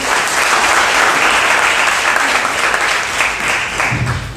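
A church congregation claps together for several seconds in a dense, loud, steady wave of applause in an indoor hall, which thins slightly toward the end.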